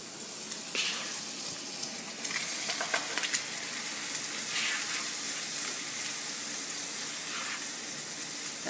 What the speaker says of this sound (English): So I'm just going to take them with a spatula and just place them inside my electric skillet to cook.